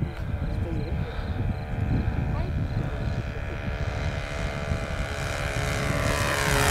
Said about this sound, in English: Do a fast flyby?